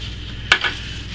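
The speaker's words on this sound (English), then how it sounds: "give it another good stir" A quick stir of soap batter after gold mica is mixed in, a short scraping swish near the mic with a second fainter stroke, over a steady background hiss.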